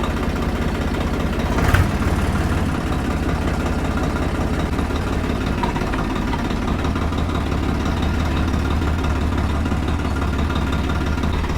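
A tractor engine runs steadily at idle, a continuous low rumble with a brief louder bump near the start, heard close by with no talk over it.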